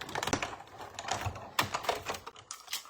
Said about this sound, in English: let's die cut that